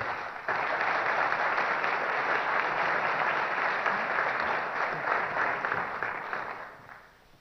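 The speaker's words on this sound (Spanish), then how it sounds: "el señor Juan Rodolfo Sánchez, para el cual les pido un fuerte aplauso" An audience at a presidential candidates' forum applauds, a steady wash of many clapping hands that starts abruptly, holds evenly and fades away at the end.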